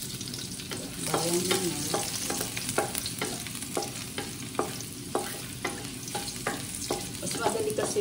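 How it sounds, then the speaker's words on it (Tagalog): Chicken fillet bistek sauce sautéing in a pan, a steady close sizzle broken by regular spatula scrapes and taps on the pan, with a brief spoken remark. "igigisan po natin yung sauce"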